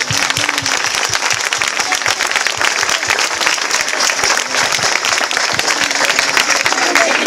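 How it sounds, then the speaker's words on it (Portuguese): A crowd applauds loudly and continuously, dense clapping sustained throughout without a break. "Uma salva de palmas, está bem?"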